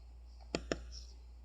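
Two quick, crisp mouse clicks close together, faint, in an otherwise quiet room.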